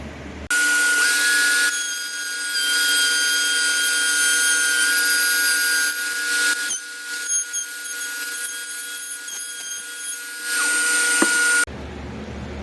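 A loud, high-pitched router whine runs steadily as a pattern bit cuts into a wooden guitar body, with rougher, fluctuating bursts midway before the motor stops.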